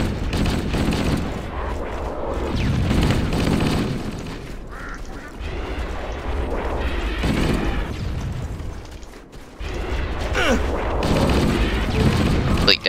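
A grenade blast and rattling gunfire in Halo on Legendary difficulty, on the Two Betrayals level: sustained loud firing and booms fill the clip, with a brief dip near the end and voices mixed in.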